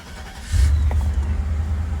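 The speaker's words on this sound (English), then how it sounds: "So the car fires right to life." A 420SEL car engine starts cold. A short quiet moment gives way to the engine catching and settling into a steady, close, low rumbling idle.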